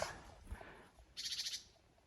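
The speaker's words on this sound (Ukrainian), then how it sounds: "Десь пташка над нами" A small bird calls overhead in a forest, a brief, faint burst of rapid high chirps after a quiet stretch of woodland ambience.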